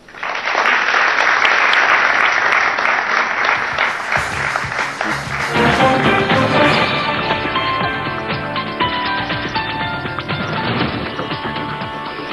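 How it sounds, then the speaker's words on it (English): An audience applauds at a live financial talk event in Mumbai, loud sustained clapping filling the room for several seconds before gradually easing and thinning toward the end. "A big round of applause for him."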